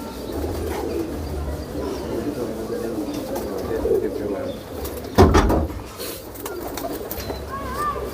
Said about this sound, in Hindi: लाल गंडेदार कबूतर है लाल जी।